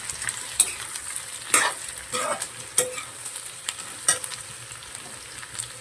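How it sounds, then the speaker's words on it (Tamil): Pumpkin pieces being stirred and fried in a pan: a soft, low sizzle broken by several sharp scraping clinks of the spoon against the pan, spaced irregularly and close by. "அதை கட் பண்ணி பூசணிக்காய் போட்டுக்கலாம். போட்டு ஒரு கலக்கலாம்."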